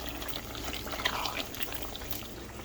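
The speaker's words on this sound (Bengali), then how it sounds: "এখন এটাকে পানি দিয়ে সিদ্ধ বসালাম" Water is poured into a cooking pot to boil, a soft steady splashing and trickling stream at moderate distance, fairly quiet and continuous with a brief louder splash midway.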